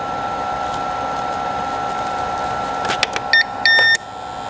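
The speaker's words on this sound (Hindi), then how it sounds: "आपको दिखाता हूँ कि इस यूपीएस के अंदर से आपको कितना नॉइज देखने को मिलता है" An APC Back-UPS 1100VA uninterruptible power supply runs close by with a steady faint whine and hum. Near the end come a few short electronic tones and clicks.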